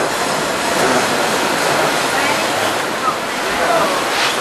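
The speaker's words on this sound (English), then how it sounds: "We're on the log ride, Aiden." Rushing water roars steadily on the log flume ride at Knott's Berry Farm, a loud continuous wash of splashing and flowing water close by with no clear breaks.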